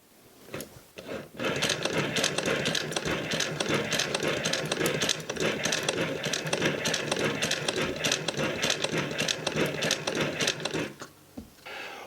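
A Howe Model A sewing machine stitching braid runs steadily with a dense, rapid mechanical clatter that starts after a brief pause and continues loud and close for about ten seconds before stopping.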